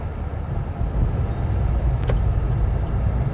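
A 2013 Suzuki Swift 1.2 GLX on a test drive, its engine and road noise forming a steady, close rumble throughout with a brief higher whoosh partway through.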